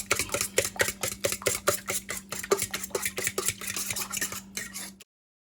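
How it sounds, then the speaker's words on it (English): Eggs whisked with black pepper and seasoning in a bowl, the utensil striking the bowl in quick, steady, evenly spaced strokes for about five seconds over a low constant hum, then stopping abruptly. "So I got my eggs in the bowl. I put a little black pepper and some seasoning. I'm scrambling it up."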